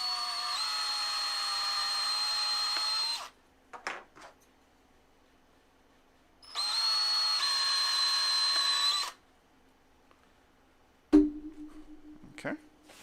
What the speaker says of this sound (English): drill those just a little bigger.